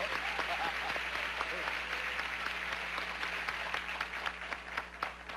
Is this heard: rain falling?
no